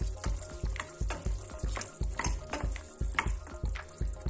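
Bacon frying in a pan for a cuttlefish stew, with a steady rhythmic series of spoon stirs and knocks over a soft continuous sizzle, close up and without talk.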